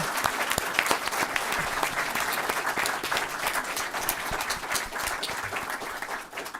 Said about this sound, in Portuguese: Uma salva de palmas para a nossa homenageada.